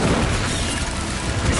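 A Confringo spell explosion in Hogwarts Legacy hits as a dense, loud, rumbling blast filling the short moment with a continuous burst of noise.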